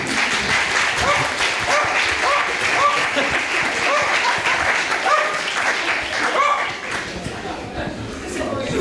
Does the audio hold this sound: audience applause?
yes